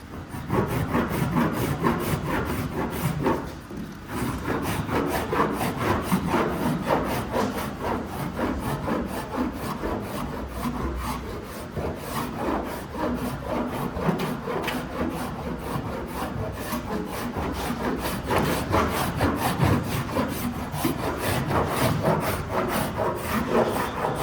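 Body filler on rusty bedsides of a GMC Sierra pickup being shaped with a cheese-grater rasp, a continuous close, loud rasping scrape in rapid back-and-forth strokes with one short pause, no talk.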